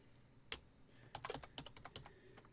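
Computer keyboard typing while entering a character's details into an online tabletop game tool, a brief run of quick close key clicks with an uneven rhythm and one sharper tap near the start.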